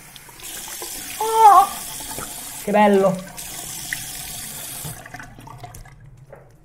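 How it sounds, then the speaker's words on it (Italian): A bathroom tap runs fresh water into a sink in a steady hiss, with brief gurgling bursts as hands dip under the stream; someone speaks a couple of words in between. "Acqua fresca, acqua fresca."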